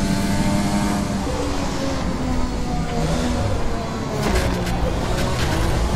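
An F1 race car engine in a video game hums steadily in the background with a buzzing, rising and falling whine, while voices talk over it and a burst of clatter comes near the end.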